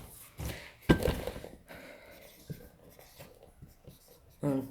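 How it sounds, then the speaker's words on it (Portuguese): Marker or chalk writing on a board during a lesson: a few scratchy, squeaky strokes with soft taps in between, close by, with a voice talking faintly in places. "deixa eu escrever pra você aqui"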